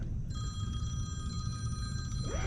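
A telephone rings with a steady electronic tone over loud low rumble and wind noise outdoors while fishing for bass, lasting about two seconds.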